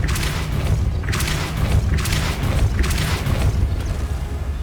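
A Depulso force spell cast in Hogwarts Legacy lands as a series of deep, loud booming thuds with bright bursts, roughly four impacts spaced about a second apart over a low rumbling game backdrop.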